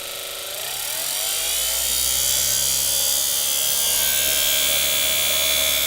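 A salvaged vacuum cleaner motor on a test run spins up over about a second into a loud, steady high-pitched whine and roar that holds constant, with no talking.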